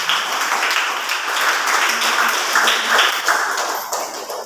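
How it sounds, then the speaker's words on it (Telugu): A congregation at a Christian sermon applauds loudly, a dense, steady wash of many hands clapping that fills the whole moment and tapers slightly at the end. "కొట్టాలి చప్పట్లు గట్టి గట్టి గట్టిగా"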